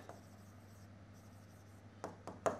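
A teacher writing on a board, soft scratchy strokes over a low steady hum, with a few sharper marker or chalk taps near the end.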